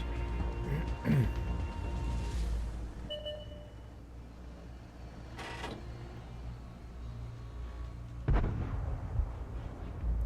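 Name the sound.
tank gunfire in a tank video game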